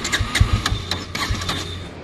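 A Bajaj Pulsar N160 motorcycle engine fires up and runs close by, giving a low, steady thrum with uneven pulses in its first second before it settles into an even idle.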